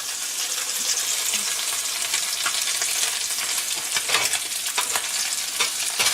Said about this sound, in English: And the sizzling sounds good.